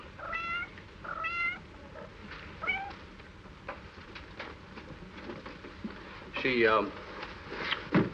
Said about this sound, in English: My poor kitties.